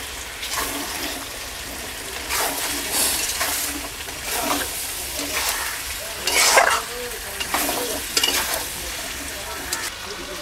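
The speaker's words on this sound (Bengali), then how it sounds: "ভেজে রাখা মাংস দিয়ে দিচ্ছি।" Meat sizzles and is stirred in a hot pan with spices for a poultry chicken curry, with steady frying crackle and several louder scraping stirs throughout.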